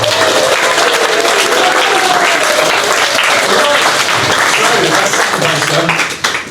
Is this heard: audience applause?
yes